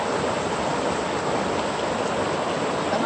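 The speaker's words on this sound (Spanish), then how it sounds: "Está más grande el río." The Rosario River, swollen after rain, rushes in a steady, dense wash of flowing water, loud and close with no voices.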